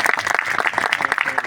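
Audience applause at a Hindi poetry recital during a birth-anniversary celebration for martyr Chandrashekhar Azad, a dense and steady burst of many hands clapping at once that fills the room for its full length.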